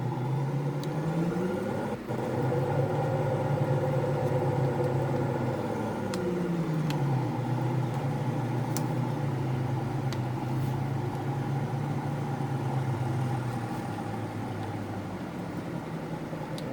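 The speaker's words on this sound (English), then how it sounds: "Leave the truck running." A farm truck's engine idles steadily nearby, a low continuous rumble with a brief dip in pitch early on, then holding even with no one speaking.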